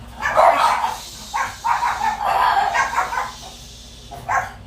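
Several pet dogs bark in a home kitchen, repeated yips and barks in bursts, loud and close, with some room noise between them.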